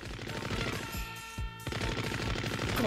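Rapid bursts of machine-gun fire in the mecha game SD Gundam G Generation Genesis, loud and continuous, with a few short gaps and heavier booming shots near the middle.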